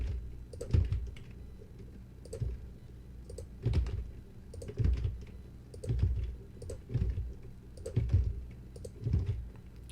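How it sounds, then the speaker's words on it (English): Steady typing on a computer keyboard: soft, uneven keystroke clicks in quick runs with short pauses, fairly close and quiet, with no talk. "while I'm typing this out."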